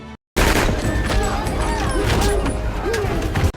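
Several gunshots ring out in a scene from the 2024 action film The Beekeeper as a cornered man grabs a weapon and fires at the FBI director; the shots are loud and sharp against a steady bed of speech.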